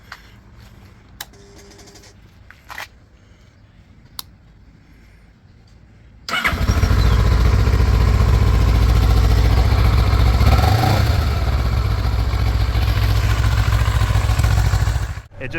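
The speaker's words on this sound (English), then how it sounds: "when I finally started the bike and got it to the engine to turn" After a few quiet clicks and taps, a neglected Kawasaki motorcycle engine cranks and roars to life, then keeps running loud and steady, rumbling close by.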